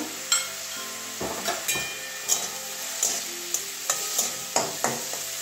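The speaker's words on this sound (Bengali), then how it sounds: "এটা ভালো করে ভেজে নেব।" A paneer filling being fried and stirred in a pan, steady sizzling under repeated sharp spatula scrapes and taps against the metal, close up, with no talking.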